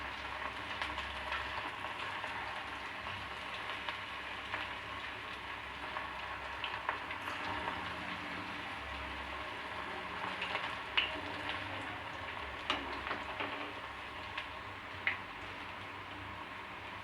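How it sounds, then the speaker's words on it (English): Chicken balls frying slowly in oil over a low flame, a steady soft sizzle like light rain with scattered small pops and crackles growing a little sharper toward the end, close, quiet and free of talk. "on low flame we have to fry this, so that it should get cooked nicely"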